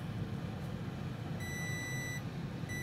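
An electronic multimeter set to diode mode gives a continuous high-pitched beep while its probes touch a shorted point on an Asus Q526F laptop board, sounding for about a second, stopping, then starting again over faint background hum.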